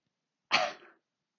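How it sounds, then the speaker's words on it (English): A single sharp cough, close and fairly loud, bursts out and trails off within half a second, isolated against silence before and after during a seated exercise. "I want you to cough"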